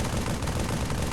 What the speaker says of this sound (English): So I'm going to switch back to the assault rifle.